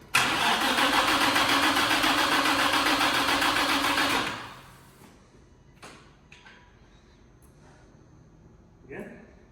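A fully built twin-turbo VQ engine starts for the first time, cranking and revving loudly for about four seconds before cutting out. Scattered quiet clicks and knocks follow in the near silence.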